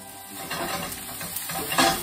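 Onions stirred in a pan for a French-style maple beef dish, with a steady scraping and shuffling of utensil against the pan over soft sizzling, close and continuous with a few louder scrapes.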